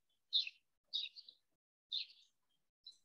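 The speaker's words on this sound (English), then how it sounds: "we can listen to the birds chirping in Kate's backyard." Birds chirp in a quiet backyard, three short bright calls spaced about a second apart and a fainter fourth at the end, otherwise near silence.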